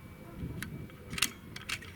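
A few sharp, close mechanical clicks and snaps from an AEA Challenger PRO LB Gen-2 air rifle being fired and handled, fairly faint over a quiet room hum, with no talking.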